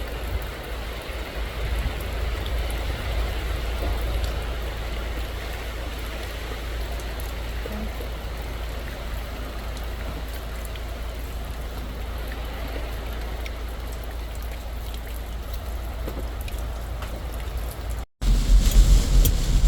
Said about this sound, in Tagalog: Akala ko walang ulan dito banda. Ang lakas pala.